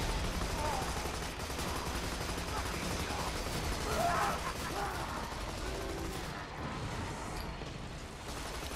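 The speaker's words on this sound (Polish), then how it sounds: "Ty szukaj, ja sobie do niego postrzelam." Continuous rapid gunfire fills a Borderlands 2 co-op firefight against a drone, with dense, loud, overlapping shots and blasts and voices mixed faintly underneath.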